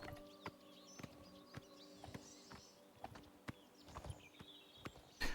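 Horse hooves clip-clop at a steady walking rhythm in the Oblivion video game, with sharp, evenly spaced hoof strikes over a low ambient hum and faint birdsong.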